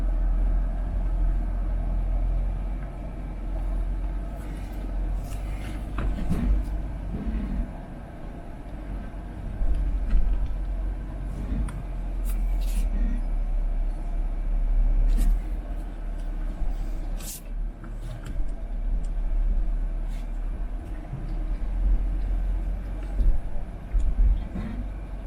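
A 4x4 vehicle climbs an offroad trail in Georgia, its engine giving a steady low rumble under crunching, rattling noise from the rough ground, with soft voices now and then.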